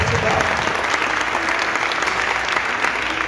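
A church congregation applauds God during an evening service, producing a loud, sustained burst of clapping from many hands that fills the whole stretch without pause.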